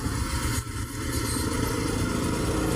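A Rusi Rapid 150 motorcycle engine fitted with a new E-type carburetor runs steadily nearby, a continuous even drone with one brief dip before settling back to a constant hum.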